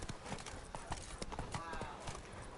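Roach, a horse in The Witcher 3: Blood and Wine, clip-clops with steady, close hoofbeats in a brisk rhythm, with other game sounds and talk layered over them.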